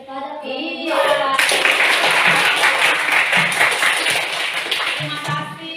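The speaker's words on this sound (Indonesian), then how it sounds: "Berikan aplaus kepada kelompok" A school classroom bursts into applause for a student group, a dense, lively clapping that lasts several seconds, framed by a teacher speaking before and after.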